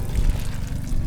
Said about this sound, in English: It's coming out of the overflow.